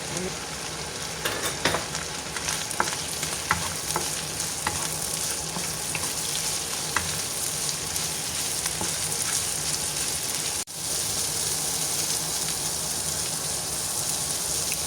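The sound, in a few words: mushrooms being added to a frying pan and sizzling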